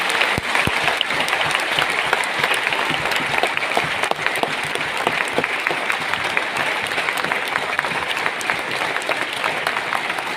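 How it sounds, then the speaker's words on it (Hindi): A hall audience claps loudly and steadily at a Railway Protection Force ceremony at Vigyan Bhawan as a training manual is unveiled, dense and sustained throughout. "आप सभी की कर्तव्य ध्वनि इस अनावरण के लिए जोरदार तालियां हो जाएगी।"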